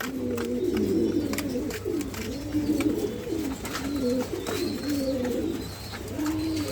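Pigeons coo steadily in a farm loft in Mirpur, Dhaka, layered rolling low calls repeating close by in continuous rhythmic waves with no voices.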